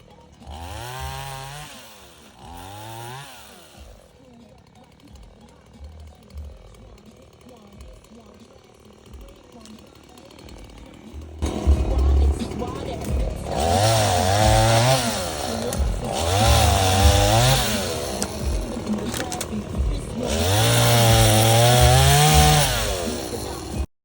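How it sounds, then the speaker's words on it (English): Chainsaw felling and clearing trees on off-grid property, the engine idling and then revving hard through several long cutting bursts, close and loud, with someone talking over the idle early on. "when you have property and you run that chainsaw"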